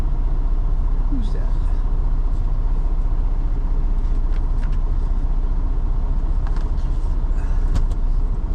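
A car driving along a road, steady engine and tyre rumble filling the whole stretch from inside the vehicle, with a voice talking briefly over it.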